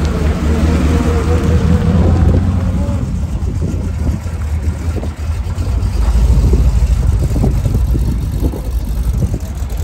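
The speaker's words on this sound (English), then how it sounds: "That is one sweet sounding Hudson." A Hudson car's engine running close by at an old-style car weekend in Sweden, a loud continuous low rumble with slight surges in intensity across the whole stretch, no talk over it.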